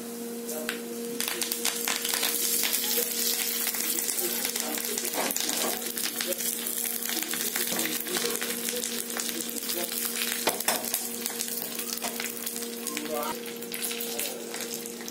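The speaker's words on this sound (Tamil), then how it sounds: "அது கொஞ்சம் போட்டு தாளிச்சு கொட்ட போகிறேன் குழம்புல" A vadagam tempering sizzles and is poured into pepper kuzhambu in a clay pot, making a dense, steady crackling hiss that carries on throughout with a few brief pops.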